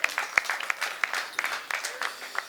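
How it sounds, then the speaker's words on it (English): Brief scattered clapping from a small trade-show audience at a NAMM 2016 product demo, a handful of sharp separate claps spread over a couple of seconds rather than a full ovation. "Give a round of applause"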